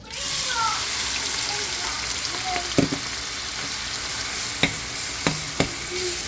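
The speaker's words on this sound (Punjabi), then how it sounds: "ਹੁਣ ਅਸੀਂ ਪਿਆਜ਼ ਭੁੰਨ ਲਾਂਗੇ ਇਸੇ ਤੇਲ ਵਿੱਚ ਹੀ ਪਿਆਜ਼ ਭੁੰਨ ਲਾਂਗੇ" Sliced onions frying in oil in a pan for stuffed bitter gourd, a steady close sizzle throughout with a few sharp utensil taps and scrapes near the end.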